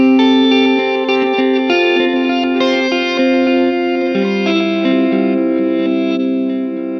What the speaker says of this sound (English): I'm using it as more of an ambient style delay, having it in reverse and cranking up the mix a little bit more, which sounds like this.